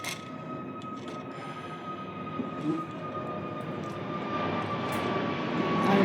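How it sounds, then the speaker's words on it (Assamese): Jet airliner passing overhead in rainy weather, a steady broadband engine roar with a rising swell toward the end, continuous and moderately loud with no talk over it. "আৰু মাজে মাজে এই প্লেনবোৰ"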